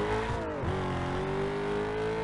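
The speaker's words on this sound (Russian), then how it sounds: "как предназначен GTR, у которого даже есть звук двигателя" Engine of a Nissan GT-R in a video game, a continuous synthetic drone that dips in pitch briefly and then holds a steady, slightly rising tone, loud and alone.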